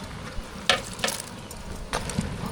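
Ground fennel, cumin, green chilli and coconut paste being stirred into cabbage kootu in a pot, giving a few soft scraping and clinking strokes over a low simmering sizzle, with no talk.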